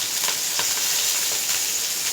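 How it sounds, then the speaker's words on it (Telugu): Onions sizzle steadily in hot oil with curry leaves and green chili, a close, continuous fry with faint crackles and the odd stir. "ఈ ఆనియన్ మనకి బాగా వేగితే బాగుంటుంది"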